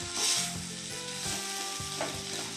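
Bean stir-fry with grated coconut and ground peanuts being stirred in a pan, a soft continuous sizzle with several rhythmic spatula scrapes, close and fairly quiet, no voices.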